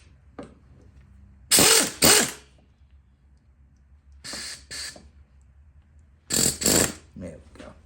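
An impact wrench drives bolts on a 1960s lawn mower during reassembly, firing three loud, close, rattling bursts of about half a second each, separated by quiet pauses.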